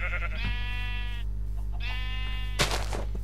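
Two drawn-out sheep bleats from Minecraft, each wavering and about a second long, separated by a short pause, followed by a brief bright clatter, over a steady low hum.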